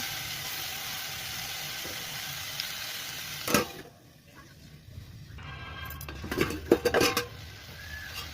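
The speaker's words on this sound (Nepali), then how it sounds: "गलभेडा चाहिँ यतिको भुटिसकेपछि चाहिँ मैले छिट्टै चलाउँदै गर्छु 5 मिनटसम्म" Jackfruit curry is stirred and fried in a pan, with a steady sizzle giving way to clinks and scrapes of a utensil against the metal, close by with no talk.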